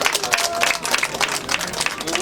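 An audience claps steadily and fairly close for a couple of seconds at a gathering honoring a local representative, with dense overlapping hand claps and no voices.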